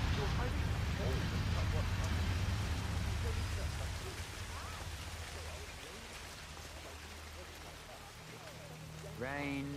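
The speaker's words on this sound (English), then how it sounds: "Rain, rain, nothing but rain." Steady rainfall hisses across a scene in the stealth video game Hitman 3, a constant wash of falling rain with low rumble beneath and voices speaking over it.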